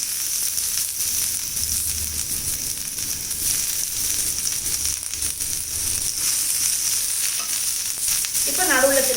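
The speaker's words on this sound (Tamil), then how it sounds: "நடுவில் கொஞ்சம் எண்ணெய் விட்டுட்டு இப்போ திரும்ப இங்கே வந்து கொஞ்சம் ஃப்ரெஷ் வெங்காயத்தை வந்து போடுறேன்" Fresh onions frying in oil on a cast iron dosa tawa give a steady, fairly quiet hiss and sizzle that runs throughout, with faint stirring scrapes and a few brief crackles near the end.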